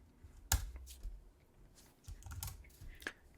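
A handful of quick computer keystrokes tap out a short command, crisp and close, with scattered irregular clicks and a slightly louder strike near the start.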